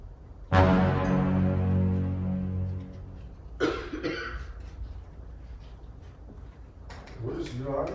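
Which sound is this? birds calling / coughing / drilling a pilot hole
coughing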